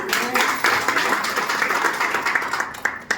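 Applause from an audience at a wellness and life sciences business meeting in Hyderabad, a sustained dense round of clapping lasting several seconds with some voices mixed in.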